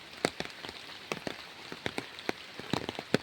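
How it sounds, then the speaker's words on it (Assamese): Rain falls outdoors on soft, muddy farmland, with distinct close drops pattering irregularly on a surface over a faint steady wash, no talking. "এতিয়া বৰষুণ দি আছে।"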